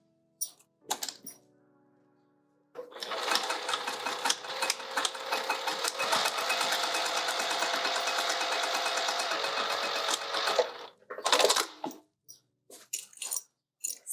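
A sewing machine stitches down the centre of a wide-opening fabric pouch, folded in half along a crease, running steadily for about eight seconds before stopping, followed by a few handling clicks.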